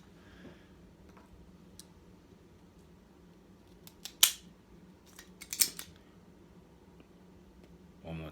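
A cigar cutter snipping the end off a cigar, two or three crisp, close snaps among quiet room sounds.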